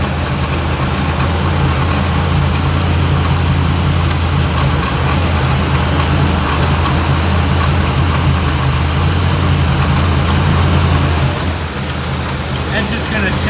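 A 1984 Chevy Blazer barn find idles steadily up close, a continuous low engine drone with a slightly rough, knocking texture and no change in speed.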